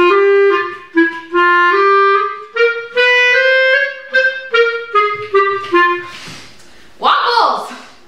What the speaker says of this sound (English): If we do the tongue cutoff, it sounds like this.